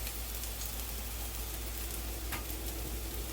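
Garlic fries in a pan with already softened onions, giving a steady, even sizzling hiss throughout, with one brief sharper crackle near the end, close up and quiet, with no talking.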